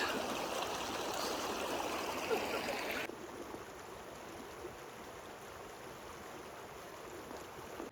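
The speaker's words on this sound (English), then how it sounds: "It's next to the creek." A creek flows steadily somewhere in the Rocky Mountains during a solo elk hunt, a continuous broadband rush of water that stays close and loud throughout, with no voices.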